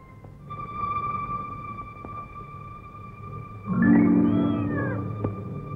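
A cat meows loudly and clearly once, a drawn-out close cry over a faint background hum in a Telugu film scene, with no talk.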